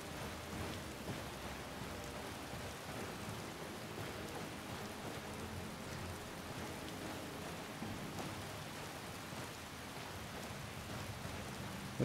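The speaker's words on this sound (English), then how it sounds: "It's been raining for like days." Steady rain in the video game Skyrim pours down in an even, hissing patter that continues unbroken throughout, moderately loud with no voices.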